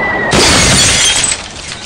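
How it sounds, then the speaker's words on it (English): Stylish glass coffee table thrown off a building bursts in a single loud shatter of glass, shards tinkling and rattling briefly before cutting off. "Now a stylish glass coffee table."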